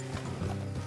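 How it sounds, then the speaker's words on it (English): Hooves of horses clip-clopping at a walk in the open-world western game Red Dead Redemption 2, a steady, fairly close rhythm of hoof falls over a low rumbling bed, with no talk. "Let's leave the horses here and go the rest on foot."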